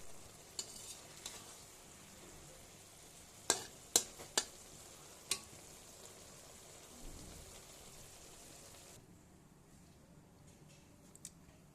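Small fish and eggplant, both coated in spice paste, fry together in a pan with a steady low sizzle, broken by a few sharp clicks of a utensil against the pan. No one speaks.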